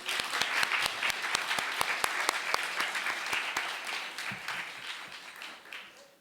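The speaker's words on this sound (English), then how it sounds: "One more clap for my student." Audience applause at a college graduation ceremony, a steady patter of many hands clapping close by that holds for several seconds and gradually fades, with no talking over it.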